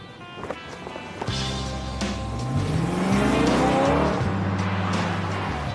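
A BMW M3 lapping a race track, its engine loud and continuous with rising revs and gear-change sweeps, the sound of hard driving at speed throughout.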